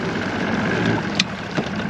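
A new power head outboard engine on a Ranger RT188 fishing boat idles with a steady, close, low rumble that continues throughout.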